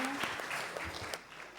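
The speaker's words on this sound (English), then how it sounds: "A big round of applause for everyone who came here" Applause from attendees at an academic stars session at IIT Bombay, moderately dense clapping at steady volume with a few sharper individual claps and faint background voices.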